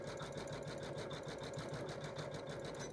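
A quilting sewing machine stitches a small decorative design, a steady fast mechanical hum with a rapid, even needle rhythm throughout. It is quiet and continuous, with no pauses.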